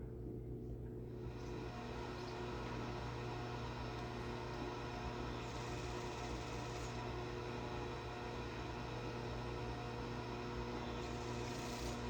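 A sewing machine stitches Dresden quilt blades together in a steady, continuous low hum with a faint mechanical rattle, running alone at low volume for the whole stretch.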